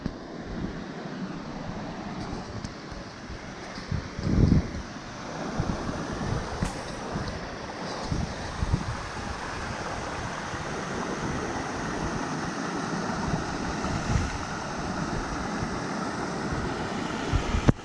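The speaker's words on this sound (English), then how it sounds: "You can definitely hear the water from a distance." River rapids in Algonquin Park in late fall roar continuously, a broad steady wash heard from some distance, with gusts of wind buffeting the microphone.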